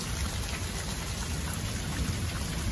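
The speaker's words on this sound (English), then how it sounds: "Thunderstorm rumbling right on through. Nice downpour." Heavy rain pours down steadily and loudly in a summer thunderstorm, with a continuous dense hiss and patter and a low rumble running underneath, no voices.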